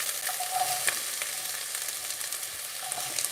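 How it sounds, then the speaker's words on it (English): Chopped onion fries in olive oil in a pan, a close, steady crackling sizzle with occasional stirring scrapes and pops, no voices. "So I'm going to add a little bit of onion there."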